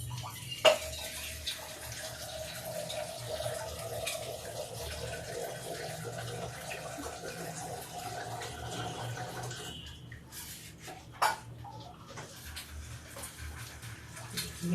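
Water poured into wheat flour dough in a home kitchen, a soft continuous trickling stream close by, with faint clicks and a short knock partway through.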